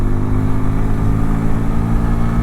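A Bajaj Pulsar 125 Classic motorcycle engine exhaust drones steadily at close range, a loud, even, low-pitched thrum holding a constant rhythm without revving changes or talk.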